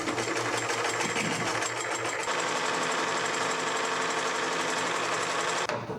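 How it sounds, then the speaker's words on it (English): A sewing machine stitches a seam in a steady, continuous mechanical whir, loud and close throughout, with a brief drop near the end. "and sew another seam."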